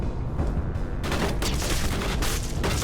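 Assault rifle gunfire in the video game Mass Effect Legendary Edition: loud, sustained rapid-fire bursts that run continuously and densely close-up, with no talking over them.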